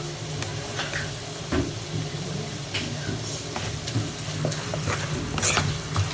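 Spoon stirring pickle powder, fenugreek powder and asafoetida into a lemon pickle mixture, a steady soft scraping and mixing with faint sizzling, close and alone without talk.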